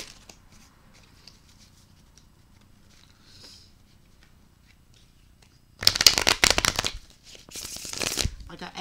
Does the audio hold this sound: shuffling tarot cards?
yes